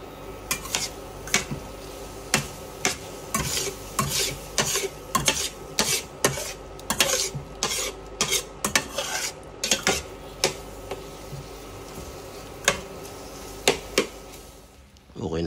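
A utensil scrapes and taps against a pan while stirring an egg and milk mixture for a breakfast burrito, in an uneven run of sharp clinks over a low background hum that fades near the end.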